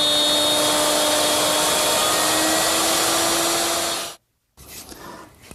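A router guided by its fence along the top edge of a chair rail, with stops at each end, cuts a mortise for a corner chair. It gives a loud, steady whine for about four seconds, then stops abruptly, leaving brief faint noise.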